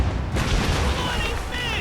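Broadside cannon fire from sailing warships in a naval battle in Assassin's Creed Rogue, heavy booming blasts rolling together into a dense, loud barrage with shouting crew voices mixed in.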